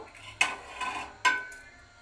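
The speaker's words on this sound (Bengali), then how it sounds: "ঢাকনাটা বন্ধ করে দমে বসাবো" A lid is set down on a cooking pot of homemade egg biryani before slow dum cooking: two sharp metallic clinks about a second apart, each ringing briefly, close and with no talk.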